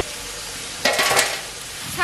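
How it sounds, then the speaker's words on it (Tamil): A spoon stirs sautéed tomatoes with mint and coriander in a pan of chicken biryani masala for a large batch, a sizzling fry with a brief louder scraping stir near the middle, no talking. "நல்லா கிண்டி விட்டுடலாம். தக்காளி நல்லா வதங்கிடுச்சு, இது கூட புதினா மல்லியை சேர்த்துக்கலாம்."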